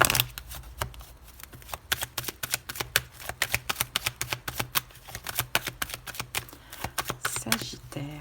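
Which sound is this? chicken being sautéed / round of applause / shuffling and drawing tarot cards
shuffling and drawing tarot cards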